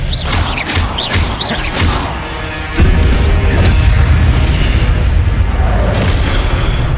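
A spell cast in the Hogwarts Legacy video game: a run of soft bursts and pops gives way to one booming blast, which leaves a loud, sustained rumble behind it.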